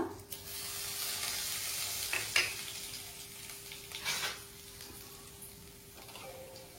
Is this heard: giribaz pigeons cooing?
no